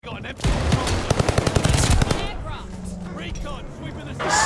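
Rapid automatic gunfire from a video game, a fast burst of repeated shots followed by scattered game sounds, close and loud, with talk from players in the background.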